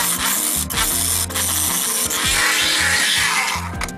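A seashell is cut with a power tool, a steady, close, buzzing grind that runs without a break and rises slightly in pitch and intensity toward the end.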